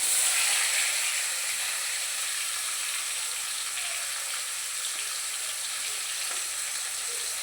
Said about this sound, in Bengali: মাছগুলি একটু লাল লাল করে ভেজে তুলে নেবে